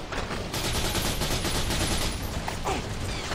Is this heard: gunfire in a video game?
yes